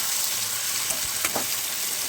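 Spice paste of mustard, green chili, tomato and onion fries with potato and eggplant in oil, giving a steady dense sizzle with occasional stirring scrapes and pops.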